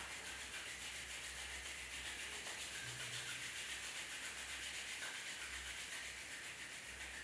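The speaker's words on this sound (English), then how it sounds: "Release your hands and rub your palms each other." Palms rubbed briskly together to warm them during a home yoga session, a soft continuous close-up swishing friction that runs steadily throughout, quiet and without talk.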